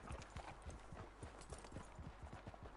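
Horse hooves clip-clop at a steady walking rhythm in the video game Red Dead Online, close and fairly quiet, with no talk over them.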